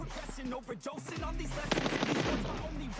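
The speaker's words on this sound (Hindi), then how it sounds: "तभी मुझे रोड के उस पार से फायरिंग सुनाई दी" Rapid automatic gunfire from across a road in the mobile battle-royale game PUBG Mobile, a dense burst of cracking shots filling the second half, fairly loud over a low background hum, with game sounds before it.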